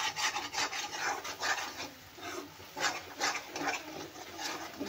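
Masala spice paste for egg curry roasting in oil in a pan, heard as soft repeated rasping scrapes of stirring over a faint sizzle, close and fairly quiet, no talking.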